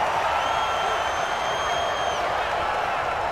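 Stadium crowd in Madden NFL 20 during a Rams vs 49ers game, a steady, loud roar of cheering building ahead of a big third down, continuous throughout with a faint high whistle-like tone running through the middle.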